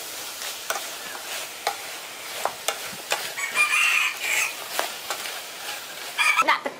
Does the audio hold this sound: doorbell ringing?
no